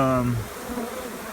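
A large honey bee swarm in flight makes a dense, close buzzing hum that starts with a strong tonal drone and then spreads into a steady, fainter whirring.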